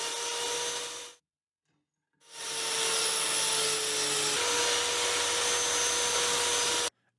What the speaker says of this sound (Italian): utilizzerò una sega circolare autocostruita un po' rudimentale